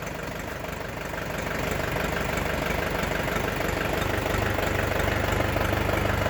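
A small diesel engine of an Orion GD 404 Pro compact tractor idles steadily nearby, a low, even chugging rumble that grows slightly louder after the first couple of seconds.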